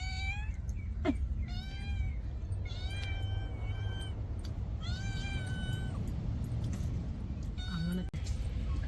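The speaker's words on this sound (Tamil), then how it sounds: "எங்கள் பூனை மியா மியான்னு கத்திக்கிட்டு இருந்துச்சு" A house cat meows repeatedly after eating boiled fish mixed with rice, its cries rising and falling in short bursts over steady low background noise at home.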